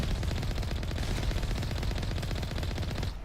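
Turret gunfire in Mass Effect Legendary Edition rattles as one continuous rapid stream of shots, loud and dense, cutting off abruptly after about three seconds.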